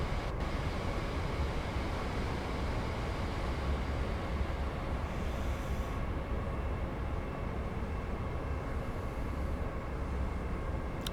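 Another Class 390 electric train overtaking in Train Sim World 5 on the West Coast Main Line south, heard as a steady, loud broadband rumble of rolling wheels and motors lasting throughout, with no talk.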